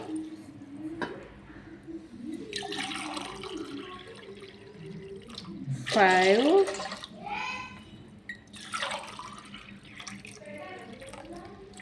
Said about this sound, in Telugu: ఇలా వాటర్ పట్టినానా